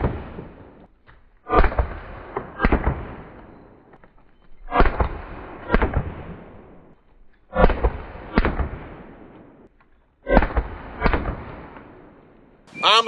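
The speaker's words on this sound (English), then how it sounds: "with a full auto AR-15, nothing special, full metal jacket, and these are actually 223 rounds" Full-auto AR-15 rifle firing .223 full metal jacket rounds in four loud, sharp bursts, each a rapid string of cracks followed by a decaying echo, with short quiet gaps between bursts.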